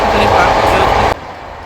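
The Howrah Barmer Express rumbles along in a loud, continuous roar that cuts off sharply partway through, leaving a quieter hum.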